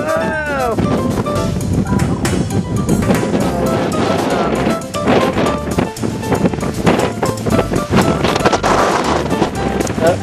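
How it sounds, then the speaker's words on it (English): Strong wind roars and buffets the microphone on the summit of Mount Chocorua, loud and continuous throughout with gusty surges, while a voice speaks briefly over it. "Gotta put this away. Too windy."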